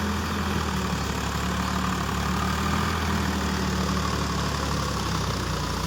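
A Swaraj 744 XT 4WD tractor runs at about 1600 RPM pulling a rotavator on farmland, giving a steady, low, droning engine hum that holds even and unbroken throughout.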